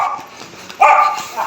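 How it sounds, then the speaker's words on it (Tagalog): A dog barks in a residential neighborhood, with a couple of near, loud barks and yips standing out over quieter background noise. "tumatahol pa."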